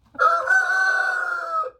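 A rooster crows loudly and close by, one long sustained call lasting about a second and a half, alone without other sounds.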